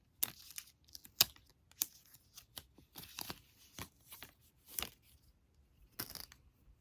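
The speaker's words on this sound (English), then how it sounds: "Okay, the wrapper is off." Plastic wrapper being torn and peeled off a new AirPods Pro 2nd Gen charging case, a series of sharp crinkling rips and rustles in irregular bursts, close and fairly quiet with no talking.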